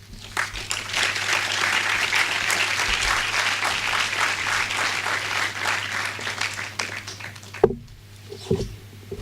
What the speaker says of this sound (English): Can we give our dean an applaud again?